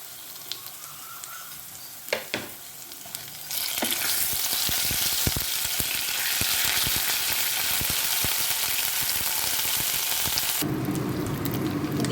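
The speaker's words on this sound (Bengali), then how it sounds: "এবার এর মধ্যে দিয়ে দেবো, এখানে প্রায় 1 চামচের মতন আদা আর 3টে লঙ্কা বাটা রয়েছে" Potatoes fry loudly in a pan as ginger and green chili paste go in, a brief clatter and scrape giving way to a steady, dense sizzle that stays strong right to the end.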